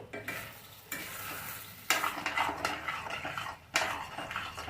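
Fada lapsi being stirred and cooked in jaggery water in a pan, a steady wet sizzle with scraping spoon strokes that come and go in bursts, close and moderately loud with no talk.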